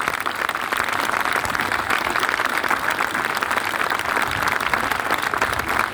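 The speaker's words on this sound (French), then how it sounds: "Donc, merci de les applaudir parce qu'ils en ont vraiment besoin aujourd'hui." Congress audience applauding healthcare workers, a steady, dense wash of clapping that stays loud and even throughout with no voices on top.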